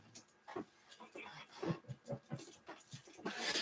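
A dog pants and huffs close by in a quick, uneven rhythm that grows louder toward the end, with occasional faint whimpering sounds mixed in.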